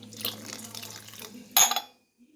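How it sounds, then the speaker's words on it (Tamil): A short splash of water is poured into ground ginger near the end, preceded by faint background hum and quiet rustling. "இஞ்சி அரைச்சாச்சு தண்ணி கொஞ்சம் சேர்த்துக்கலாம்"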